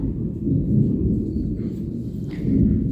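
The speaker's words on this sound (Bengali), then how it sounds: "দেখো এইদিকে আকাশে মেঘ ডাকছে" Thunder rumbling in the sky on a partly sunny day, a continuous low, fairly loud rolling rumble that swells slightly toward the end, with no talking.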